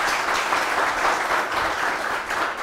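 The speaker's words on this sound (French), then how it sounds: "Merci d'applaudir Tony François" Dense, steady studio-audience clapping in a TV sports studio as a former club and national-team player turned coach is welcomed, filling the whole short stretch at even loudness.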